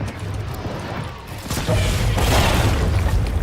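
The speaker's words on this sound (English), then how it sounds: "they have some type of pumpkin launcher or a launcher" Pumpkin launcher blasts in Fortnite hit as heavy booms, with a quieter stretch first and then a loud, sustained crashing burst of explosions and debris carrying on until the end.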